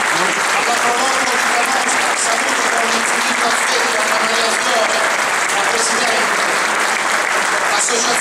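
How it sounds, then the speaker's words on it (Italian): A theatre audience at an evening of film music in Canosa di Puglia gives loud, steady applause that fills the room without a break, with no speech over it. "vorrei che tributaste un ultimo applauso a quelle associazioni"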